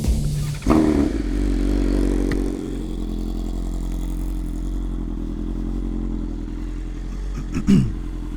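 A 2026 BMW M1000RR superbike idles with a deep, steady rumble, sharply blipped near the start and again near the end, each rev flaring loud and close before settling back to a constant idle.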